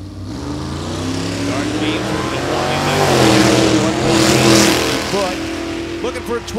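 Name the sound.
drag race car accelerating down the track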